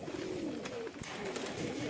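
A pigeon coos in a loft, a soft, low rolling call repeated a couple of times, faint and fairly close against quiet background noise.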